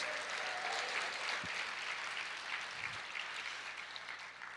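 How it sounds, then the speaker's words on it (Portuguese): A church congregation claps steadily together, a dense, even patter of many hands that holds for several seconds and tapers slightly at the end, fairly faint overall. "Pode aplaudir o Senhor e dizer glória a Deus."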